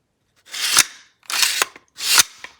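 An AR-15 style Smith & Wesson M&P 15 Sport II rifle is worked during a safety check: three sharp, close metallic clacks spaced under a second apart, with silence between them.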